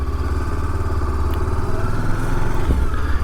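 A 2013 Honda CB500X motorcycle rides slowly around a parking lot, its engine a loud, steady, close throb with a slight rise in pitch near the end.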